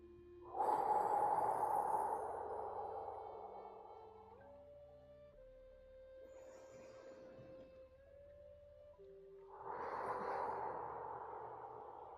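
A voice imitates breathing in, giving two drawn-out breathy swells with a gap between them, heard over a soft, wavering sustained tone.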